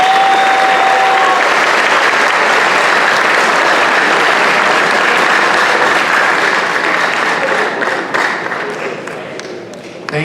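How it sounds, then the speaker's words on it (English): A school assembly audience at Garfield High School applauds the principal, a loud sustained round of clapping that fills the room and tapers off slightly toward the end. "Please give him a round of applause."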